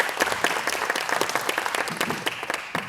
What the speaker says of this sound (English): Can we give Denny a round of applause?